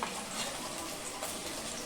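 Food frying gently in oil over a low gas flame, a steady soft sizzle with faint crackles running evenly throughout, fairly quiet and continuous.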